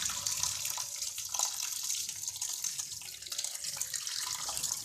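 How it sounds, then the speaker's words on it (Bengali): Boiled chowmein noodles are rinsed under cold water running from a tap. The flow is a continuous close splashing rush with small spattering variations and no voices. "ঠান্ডা জল দিয়ে ধুচ্ছে এগুলো, যাতে করে চাউমিনটা গরম না থাকে।"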